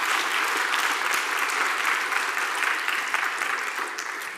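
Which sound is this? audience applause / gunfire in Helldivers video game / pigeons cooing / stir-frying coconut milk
audience applause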